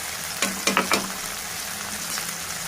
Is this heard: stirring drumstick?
yes